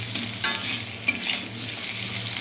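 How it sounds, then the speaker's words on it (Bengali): Potatoes tossed with a little turmeric and salt fry in hot oil in a pan, giving a steady close sizzle with faint stirring scrapes throughout. "আলুটাকে হচ্ছে ভেজে নিচ্ছি"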